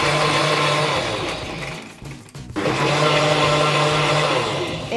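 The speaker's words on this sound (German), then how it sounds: "Darum tue ich jetzt noch ein paar Eiswürfel drin und mixe die im Eisprogramm." A kitchen blender crushes ice cubes on its ice program, with a loud grinding whir that dips briefly midway, then surges back to full, steady power. No one speaks.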